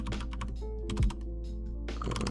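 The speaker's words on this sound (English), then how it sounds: "I'm going to hit console and type in endmovie" Keys clack on a computer keyboard as a console command is typed into a PC game's movie-making tool, a run of quick close taps with short pauses between bursts.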